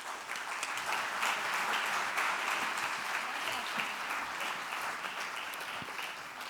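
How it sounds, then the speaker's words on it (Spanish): Steady applause from a conference audience at an international congress on the wage gap, dense and sustained for several seconds at an even level with no voices over it. "Un aplauso para ella."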